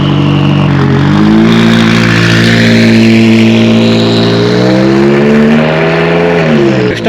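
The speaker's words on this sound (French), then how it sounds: "notre ami Nicolas débutait Dijon Auto Racing avec sa McLaren 570 S" A McLaren 570S race car revs hard at Dijon-Prenois circuit, a loud, close engine note climbing and falling steadily for several seconds with gear-shift dips, continuous and alone without voices.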